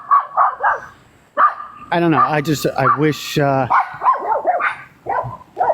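Several small dogs bark and yip in sharp bursts close by, with a voice talking over and between the barks.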